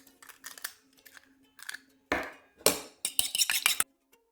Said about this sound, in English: We'll beat our egg and then add it into our mix.